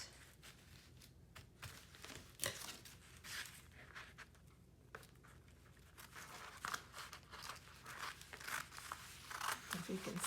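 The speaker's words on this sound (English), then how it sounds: "we are going to cut this out" Scissors snipping through a children's fabric book page, with crisp crinkling and cutting sounds repeating close by at an uneven pace, fairly quiet throughout.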